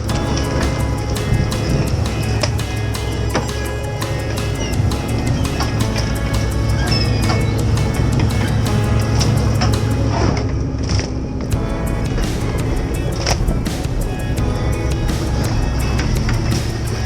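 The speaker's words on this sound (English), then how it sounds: "The ship's engines roar painfully, thick black smoke billowing from the exhaust pipes" Fishing boat engines offshore give a loud, steady, dense roar with a faint rhythmic knocking that runs unbroken throughout, and no voices are heard.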